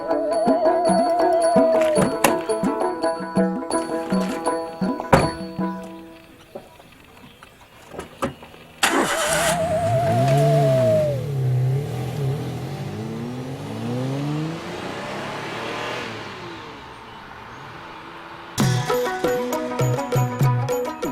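A car engine turns over and revs in rising and falling sweeps as it pulls away, mixed with music and mechanical clatter.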